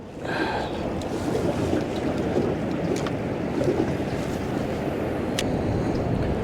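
Wind gusting across Lake Taneycomo during fishing from a boat, a steady broad rush buffeting the microphone with faint water movement beneath and a couple of small clicks.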